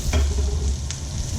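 Onions and carrots hitting a hot pan and being stirred, a brief close burst of frying sizzle with a scraping stir and no voices.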